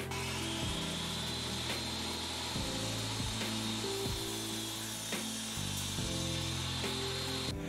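A table saw with a crosscut sled slices through a board of wood, its motor whining steadily and close while the cut rumbles and chatters rhythmically throughout.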